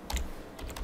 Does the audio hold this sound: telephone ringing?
no